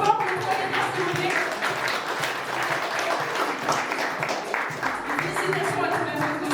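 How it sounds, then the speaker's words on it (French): An audience at a Japan and manga quiz event applauds the three quiz winners, with sustained, dense clapping filling the room throughout. "On peut encore les applaudir bien fort pour les 3 gagnants,"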